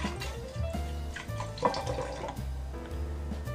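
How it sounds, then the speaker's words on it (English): Wine pours steadily into a crystal decanter, a continuous liquid splash and gurgle with light ringing overtones, close and alone. "You pour the wine into the decanter"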